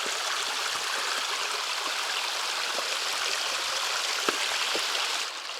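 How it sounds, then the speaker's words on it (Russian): A mountain stream fed by melting snow rushes steadily nearby in a broad, even hiss of flowing water, with occasional splashes and light trickles and no voices. "Вот мы уже дошли до того уровня, где снег тает и образуются ручьи."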